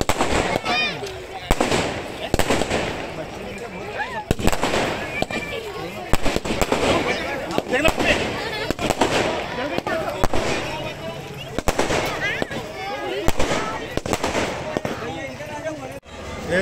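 Diwali firecrackers and fireworks explode in rapid, irregular bursts and pops, some near and sharp, others distant, continuing throughout with voices and crowd noise mixed in.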